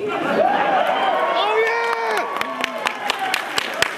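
Convention crowd at a comic con Q&A clapping and cheering, scattered sharp claps and whoops in a large room, with a voice speaking over the noise.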